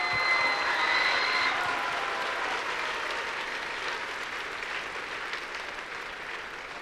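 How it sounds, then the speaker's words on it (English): Arena crowd giving volunteers a round of applause at a FIRST robotics state championship in Michigan, dense steady clapping that slowly fades over several seconds. "let's give them a big round of applause"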